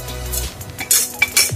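A spoon mixes Lucknow-style tunday kebab mince with spice powders in a bowl, with close, brief scraping strokes and a few sharp metallic clinks against the dish, and no voices.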